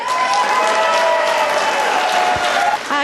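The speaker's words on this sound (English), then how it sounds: "So give them a big round of applause." Steady, loud crowd applause at a public works open house event, dense clapping continuing throughout with a murmur of voices beneath.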